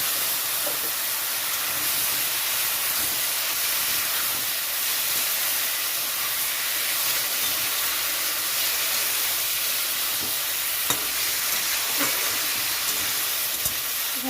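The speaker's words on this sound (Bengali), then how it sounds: "এখানে আমি দিয়ে দিচ্ছি লাউ।" Chopped bottle gourd cooks in a pan over a dal base, giving a loud, unbroken sizzling hiss that runs steadily throughout, with occasional faint clicks and no speech.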